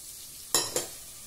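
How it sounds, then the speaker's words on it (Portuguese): Garlic and onion sauté in butter with a soft, low sizzle, broken by two quick, close scraping stirs of a utensil in the pan. "Aqui eu refoguei o alho e a cebola."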